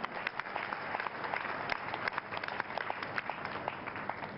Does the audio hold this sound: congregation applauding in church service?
yes